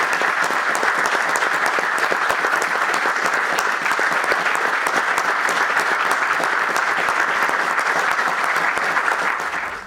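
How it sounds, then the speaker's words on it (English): A crowd applauds the new Chief Constable at his swearing-in on the Isle of Man. Dense, steady clapping fills the room for about ten seconds at a constant level, then tapers off at the very end. "I think we should all give the new Chief Constable a big round of applause."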